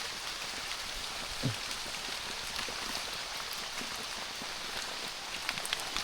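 Heavy rain pours steadily on a bamboo hut, a dense, even hiss with scattered drips and patters throughout, close and loud, with no voices.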